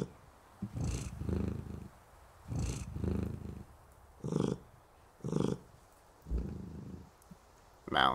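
A cat in the cat café game Calico purrs in slow, rhythmic rumbling pulses, close and loud, with each breath cycle repeating steadily for several seconds.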